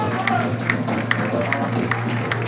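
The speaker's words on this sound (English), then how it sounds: "the fans showing their love for wrestling's favorite bowler" Crowd at a pro wrestling show cheering and clapping for a bowler-character wrestler, a steady dense roar of applause with scattered claps and shouts throughout.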